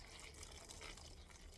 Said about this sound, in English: And then we're just going to pour straight into the middle.